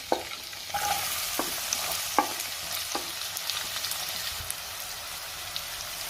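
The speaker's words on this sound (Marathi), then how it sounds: "कांदा मी 2 मिनिटं व्यवस्थित परतून घेणार आहे।" Chopped onion and crushed garlic sauté in a pan along with cloves, peppercorns and cinnamon, producing a steady gentle sizzle with several sharp spatula scrapes and taps early on.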